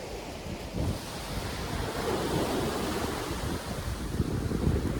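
Ocean waves wash steadily onto a beach, a continuous broadband roar of surf with rolling swells and some wind rumble, fairly close and alone without speech.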